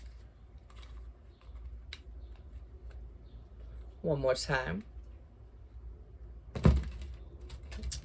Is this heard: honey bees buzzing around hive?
no